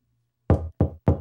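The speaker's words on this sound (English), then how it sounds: "Somebody is knocking at the door." Three firm knocks land on a door in a cartoon children's nursery setting, evenly spaced and close, with silence before them.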